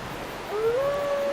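Great Wolf Sif, the giant sword-wielding wolf boss of Dark Souls, lets out a single rising, tonal howl over steady game background noise.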